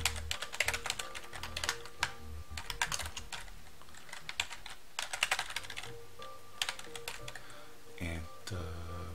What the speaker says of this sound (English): so you don't have to watch me type too long